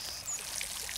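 Watering a plant in the Garden Simulator video game, a soft, quiet hiss of pouring water trickling steadily for about a second.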